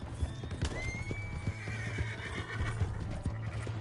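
A horse in the Red Dead Redemption 2 video game whinnies with a long, rising neigh while hooves clip-clop in a steady rhythm throughout, close and fairly loud over a low steady hum.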